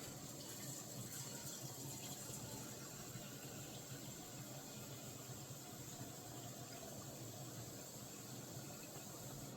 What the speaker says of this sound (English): And we're gonna put the water in.